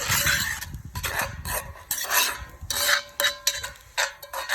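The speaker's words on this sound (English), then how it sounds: "Let's give that a stir" A spoon scrapes and stirs Hungarian goulash in a pot, with repeated close rasping strokes and light metallic clinks in an irregular rhythm.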